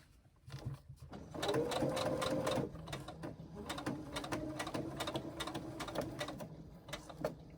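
A sewing machine basting fabric pleats, stitching in a steady run that speeds up in the middle, with short mechanical clicks and taps before and after as the work is moved.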